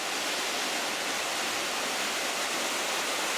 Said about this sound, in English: There's some nice waterfalls